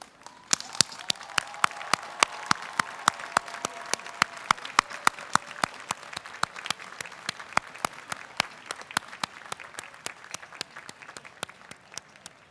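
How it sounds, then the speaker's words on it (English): Standing audience at a 2015 Weinberg College convocation applauds the graduates' families, a sustained round of crowd clapping with distinct sharp claps close by throughout. "can you all rise and turn around and applaud them?"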